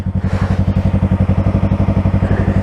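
A Yamaha R3 motorcycle fitted with an M4 Street Slayer exhaust idles loud and close, its deep exhaust thumping in a fast, even rhythm throughout.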